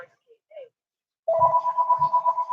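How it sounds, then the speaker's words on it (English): A home landline phone rings with a steady electronic warble, loud and close, after a few brief faint sounds; the ring continues unbroken to the end with a low thump or two beneath it. "That is weird that my house phone is ringing."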